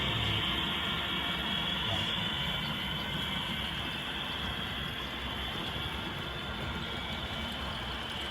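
An HO scale model passenger train runs along the track of a model railroad layout, giving a steady, continuous rolling rumble with a hissing wash over it, fairly close and with no talk.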